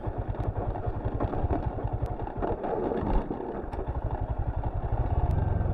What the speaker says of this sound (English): With the bike overweight because of all the gear and riding alone, I was happy just to plod my way down.